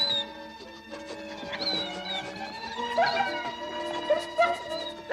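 Cartoon dogs in a Smurfs episode yip, howl and whimper in short rising cries over a busy music backing, with several overlapping calls of moderate loudness.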